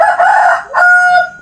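A rooster crows loudly and up close in two drawn-out, strained calls, the second held steady on a sustained tone.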